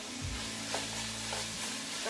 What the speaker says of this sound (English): So we're gonna stir it.